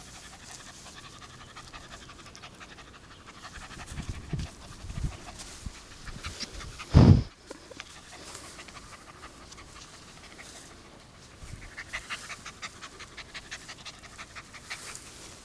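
An 11-week-old male Welsh terrier puppy pants steadily and softly at close range, with a brief louder bump partway through and no talking.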